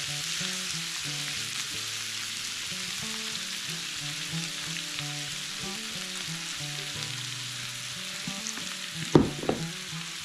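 Butter and flour sizzle steadily in a pan being stirred for a thick mixture, a continuous close frying hiss with a few sharp scraping knocks near the end; no one speaks.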